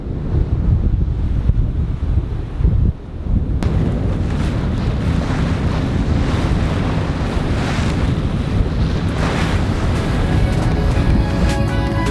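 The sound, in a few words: waves and wind at sea aboard a trawler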